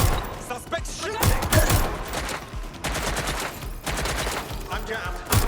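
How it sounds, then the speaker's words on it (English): Gunfire in the video game Watch Dogs Legion: repeated loud bursts of shots and fusillades in rapid clusters across the whole stretch, with thuds between them. "Suspect shooting!"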